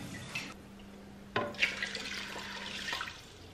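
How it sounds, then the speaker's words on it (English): Water poured from a measuring cup into a cooking pot holding two cups of dry beans, a splashy stream with a sharp burst near the middle, fairly close and moderately loud with no talking. "I'm going to throw them in here and then add the water. I'm going to do six cups of water"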